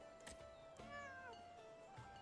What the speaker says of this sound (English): It's a real cat, like it's in a basket